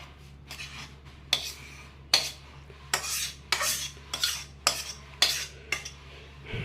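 Ash gourd halwa being scraped and poured from a pan, with a metal spoon or spatula giving repeated rhythmic scraping strokes against the cookware, close and clear, about ten strokes with no talking.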